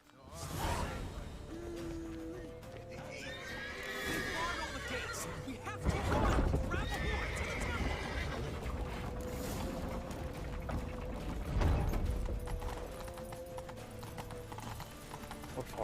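Horses neigh and hooves clip-clop in The Witcher 3 video game, with several whinnies rising over steady trotting footfalls while people talk in the background.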